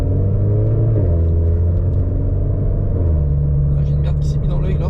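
A car with an aftermarket GT Perf exhaust rumbles deep and throaty and revs close by, pitch stepping up and down, with a voice briefly audible near the end.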